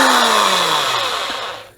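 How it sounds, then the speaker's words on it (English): A power drill running in reverse with a 17/32 inch bit on a brass breech for a Nerf modification whirs loudly up close, its pitch sliding downward as it spins for under two seconds. "you're going to reverse your drill bit"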